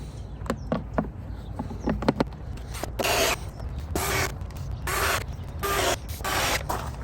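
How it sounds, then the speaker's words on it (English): Airbox cover being pushed back into place on a Honda CRF300L dirt bike, a series of close plastic clicks and scraping rubs followed by several longer sliding, rustling bursts. "Replace the airbox cover."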